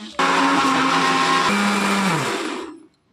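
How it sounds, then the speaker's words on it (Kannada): A mixer grinder whirs loudly and steadily, grinding sambar masala fine. It starts abruptly, runs for about two and a half seconds, then spins down to silence. Nobody talks over it. "ಇವಾಗ ಇದನ್ನು ನೀಟಾಗಿ ಸಣ್ಣಗೆ ಗ್ರೈಂಡ್ ಮಾಡ್ಕೊಳ್ಳೋಣ"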